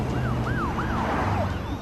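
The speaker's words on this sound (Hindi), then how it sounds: "पुलिस की गाड़ी आ रही है, नीचे छुप जाओ।" A police car siren wails in a dubbed Hindi movie scene, rising and falling sweeps repeating steadily over a loud engine and road rumble, with no talking.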